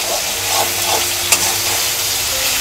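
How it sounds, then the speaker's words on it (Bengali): Chopped tomato stirred and frying in hot oil makes a dense, even sizzle close up, broken by a single sharp scrape of the spatula partway through. "তেলের সঙ্গে একটু নেড়ে ছেড়ে ভেজে নেব।"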